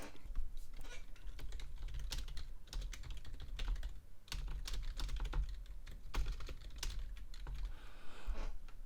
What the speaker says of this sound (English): and then you type your comments